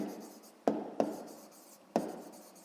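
Pen on paper writes out a math exercise in a quiet room, with three sharp taps followed by a soft, continuous scratching, up close.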